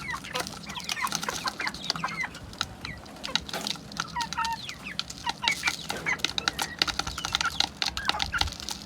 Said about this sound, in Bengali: দেখেন এই যে দেশি মোরগ